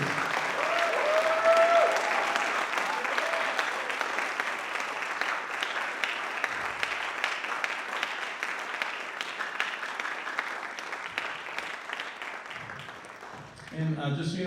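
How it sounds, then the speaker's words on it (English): An audience applauds seniors at a school band concert, with steady, dense clapping filling the hall that holds throughout and tapers slightly near the end. "Big round of applause for our seniors."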